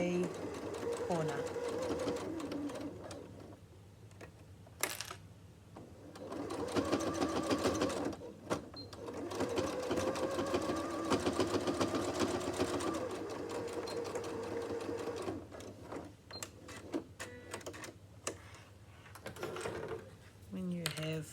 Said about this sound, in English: now I'm going to sew 1, 2, 3, 4 of those corners closed